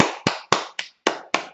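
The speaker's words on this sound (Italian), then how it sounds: "Un applauso al Movimento 5 Stelle." A single person claps slowly and deliberately, about seven spaced handclaps with reverberant tails, close and alone with no talk, mock applause aimed at the Movimento 5 Stelle political party.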